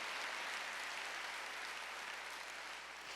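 A church congregation clapping during a Wednesday worship service, a faint, even wash of many hands applauding steadily throughout, distant and without voices.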